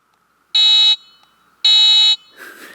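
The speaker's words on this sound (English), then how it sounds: "So I forgot to show you down here earlier, but this little box right here is the horn," Two loud, sharp electronic beeps from the horn of a RelayWay dual motor electric scooter sound close up, each about half a second long with a pause between, followed by a faint rustle.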